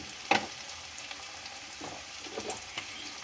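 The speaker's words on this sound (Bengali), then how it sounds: "পেঁয়াজ আর রসুনটা একটু ভেজে নিয়ে তারপর মশলাগুলো দেবো" Onion and garlic paste fry in a pan for a Bengali egg curry, a soft steady sizzle with a sharp spatter near the start and a few quieter stirring scrapes afterward, close and alone.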